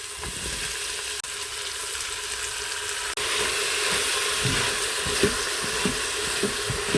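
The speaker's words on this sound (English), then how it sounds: "the onions look sauteed, so I'm going to throw in our spices and mix those in." Onions and spices sautéing in an Instant Pot, a steady bright sizzle with a brief click at two points, then soft scraping stirs and light knocks toward the end, near and alone.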